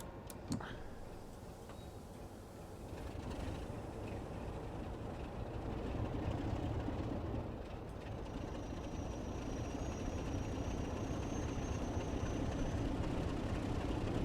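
A diesel train on the London Overground line from Gospel Oak to Barking Riverside in Train Sim World 4 rumbles with a steady low engine drone that builds slightly, with faint ticking and a thin high whine partway through.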